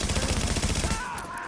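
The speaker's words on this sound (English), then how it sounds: "I don't shoot more than 30 of my bullets, and that is due to the fact that I shoot 30 and stay on them." Automatic gunfire in a console shooter video game, one loud rapid burst of rattling shots that cuts off partway, leaving a duller tail of game noise.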